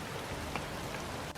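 Steady rain in the video game Gothic 2, an even hiss of falling drops filling the whole short stretch with no voices over it.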